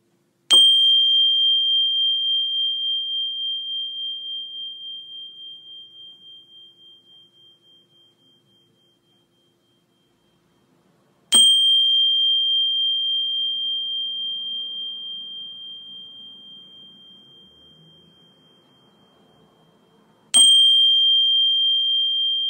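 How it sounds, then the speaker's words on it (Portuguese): A meditation bell is struck three times, each strike ringing out clear and bright and then fading slowly over about ten seconds in an otherwise quiet room. "procurem ouvir o toque do sino"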